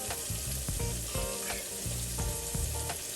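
Shrimp fry in a pan with a loud, constant close sizzle, broken by scraping and stirring clicks as the pieces are turned, with no voices over it.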